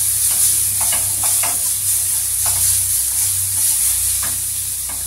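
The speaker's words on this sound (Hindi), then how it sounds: "मैं इसमें डाल दूंगी लहसुन अदरक जो कटा हुआ था" Chopped garlic and ginger fry in hot oil in a pan, a steady close sizzle with intermittent scraping as they are stirred.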